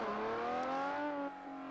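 A car engine in the game Forza Horizon revs steadily with a rising, then settling tone, close and loud, a gear shift near the end dropping the pitch.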